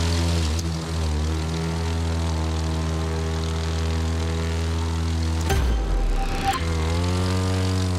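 Propeller airplane flying in The Crew 2, a steady droning engine with strong harmonic tones held loud and close throughout, briefly shifting pitch with a whoosh partway through before settling back into the even hum.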